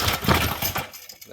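A trash-picked Briggs and Stratton pressure washer engine set at idle gives a single sharp, close pop at start, a brief noisy burst that dies away within a second.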